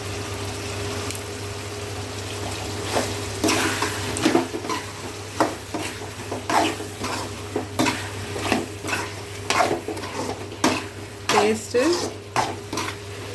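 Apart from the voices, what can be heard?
stirring pepper chicken in a pan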